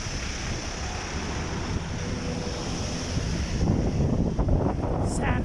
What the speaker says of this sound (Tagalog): SANDSTORM, man.